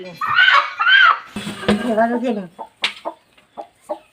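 A hen being set on eggs to hatch chicks gives a run of short clucks, spaced out and close by, after a person talks briefly at the start.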